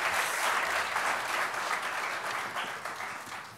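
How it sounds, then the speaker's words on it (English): An audience at a sake tasting and lecture gives the brewers a sustained round of applause, a dense, even wash of many clapping hands that stays loud and slowly fades toward the end. "Can we have a round of applause for all the brewers as they go to prepare?"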